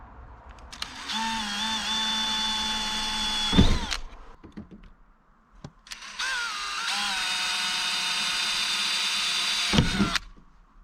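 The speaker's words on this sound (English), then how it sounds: "pre-drilling with an 1/8 inch drill bit?" A drill pre-drills holes with a 1/8 inch bit during an LP furnace install in a 2002 MCI bus conversion. Two close, loud bursts of whining drilling, each about three seconds, with rising pitch and a brief pause between.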